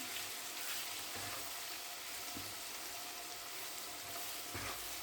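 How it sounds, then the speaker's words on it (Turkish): Oil sizzles and crackles steadily as potatoes fry in a pan, a constant hiss with occasional soft stirring clinks, no voices. "Bir taraftan da patates kızartıyorum."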